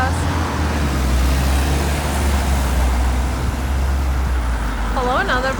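Another city bus moving past on a Moscow street, its heavy low drone steady within continuous roadway traffic, with a brief wavering whine near the end.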